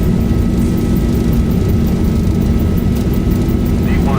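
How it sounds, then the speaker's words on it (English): A Boeing 737 rolls down the runway for takeoff with a slight tailwind in the X-Plane simulator, a loud steady jet engine roar with a low rumble that holds constant throughout. "Nice on takeoff roll today, bit of a tailwind as well."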